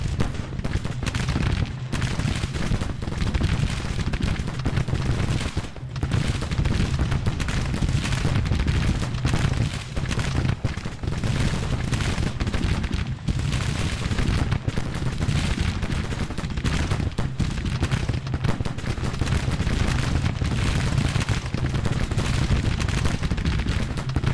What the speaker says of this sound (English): A lot of casualties for these guns, but they're just going to keep firing.